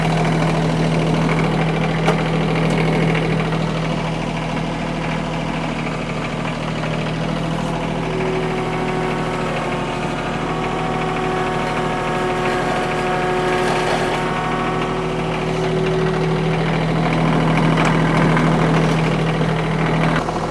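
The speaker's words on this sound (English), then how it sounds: "I'm going to go ahead and back the tractor up just a little bit more." A Kioti CS2520S compact tractor's diesel engine idles steadily up close with a low, even drone while backing up. A faint tonal whine rises and fades partway through.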